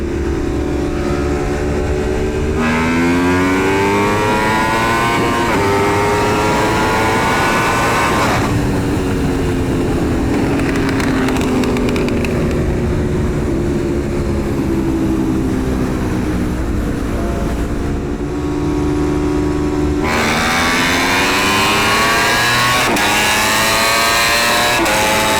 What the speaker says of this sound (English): Just the sounds of that exhaust.